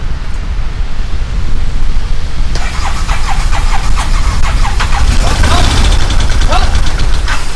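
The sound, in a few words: UTV engine starting after new crank sensor installed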